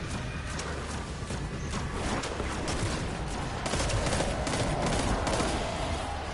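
Rapid gunfire in the shooter game Destiny 2, a dense run of sharp shots over busy game noise, growing louder and heavier in the second half.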